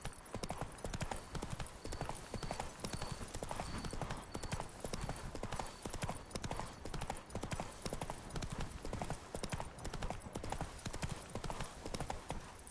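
Horse hooves clip-clop at a steady gallop through the whole stretch in The Witcher 3, a dense, even rhythm of rapid, loud hoofbeats with no pauses.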